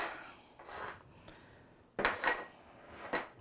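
A spatula scrapes down a reused mixing bowl of tequila sunrise cupcake batter, giving a few short, close scraping and clinking strokes with quiet pauses between them.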